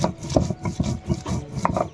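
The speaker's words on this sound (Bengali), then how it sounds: "আদা রসুন আর লঙ্কা আমি একসঙ্গে বেটে নিচ্ছি" Ginger, garlic and chilli ground together into a paste by hand in a village kitchen, heard as rhythmic rough rubbing and scraping strokes repeating steadily up close, with no voices.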